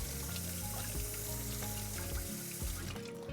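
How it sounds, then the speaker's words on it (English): A carbon steel kitchen knife is rinsed under a running tap in a sink, giving a steady, close splashing stream of water that continues throughout and thins out near the end. "I'm gonna rinse off my knife because this is a carbon steel knife"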